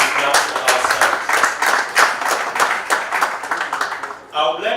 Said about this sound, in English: And I especially clap for ourselves.